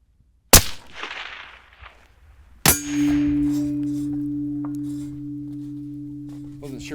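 A suppressed rifle fires and the bullet strikes a steel target: a sharp report, then a second crack with a ringing metallic clang that hums on for several seconds, loud and fairly close.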